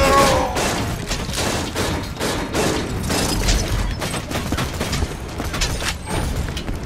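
Dense, continuous gunfire and explosive thumps from the video game Borderlands 2, with rapid mechanical clatter and booms layered throughout at a steady, loud level.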